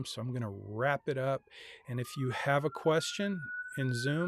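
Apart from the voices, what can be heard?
siren outside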